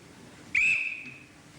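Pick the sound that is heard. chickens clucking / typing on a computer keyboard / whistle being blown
whistle being blown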